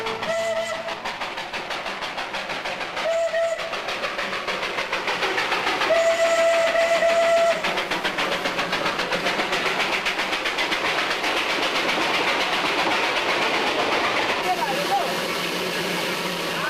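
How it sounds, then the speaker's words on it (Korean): Darjeeling steam locomotive, the toy train on the mountain line, rumbling and clattering along with several short whistle toots and one longer steady blast, while a voice talks over it. "장난감 기차로 불리우는 증기기관차는 손님을 가득 싣고"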